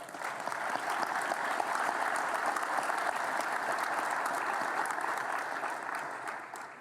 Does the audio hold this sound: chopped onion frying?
no